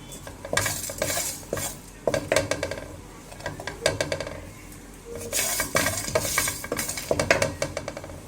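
Spiced masala and meat are roasted over a slow flame in a pan for a turnip and meat curry, with a spoon repeatedly scraping and clinking against the metal in steady stirring bursts and a soft sizzle beneath.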